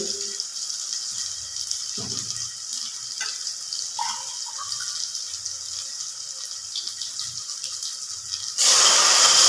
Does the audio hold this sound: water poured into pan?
yes